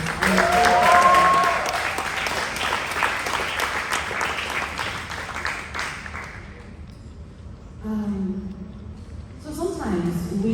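Audience at a literary festival applauds in a dense, sustained burst that fades away, with a voice speaking over the start and talk resuming at the end.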